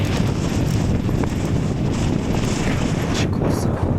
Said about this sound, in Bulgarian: Това вятър.